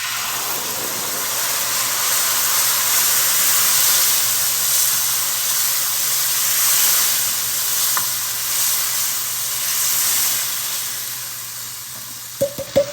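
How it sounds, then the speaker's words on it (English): Canned diced tomatoes hitting a hot pan, a loud, broad, steady sizzle and hiss that swells and eases throughout, close up, with a few sharp utensil knocks right at the end and no talking. "And then we're going to add in a can of diced tomatoes."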